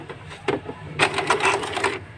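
An Epson L120 inkjet printer powers on after a repair, first a couple of short mechanical clicks, then a rapid, whirring run of the print-head and feed mechanism, close and moderately loud with no talking.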